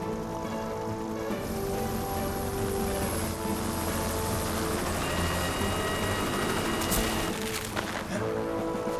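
A cartoon helicopter's rotor in a Fireman Sam episode thumps and whirs continuously and loudly, a steady mechanical drone filling the whole stretch.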